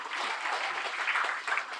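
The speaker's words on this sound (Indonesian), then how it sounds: "Ayo tepuk tangan dulu ya." An audience at a Hindu temple gathering applauds together, a short burst of even, close clapping with no talk.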